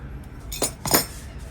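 Two quick metallic clinks of small antique teaspoons knocking together, close and crisp, with a faint background hum.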